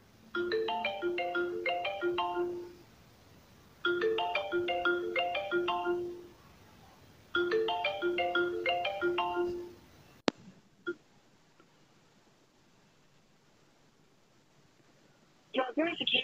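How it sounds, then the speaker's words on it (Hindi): An incoming call ringtone on a phone plays three repeated melodic bursts of about three seconds each, clear and close, before falling quiet with faint handling sounds. "मुझे डायरेक्ट यह कॉल आ रही है मैं उठा लेता हूँ दोस्तों कॉल को"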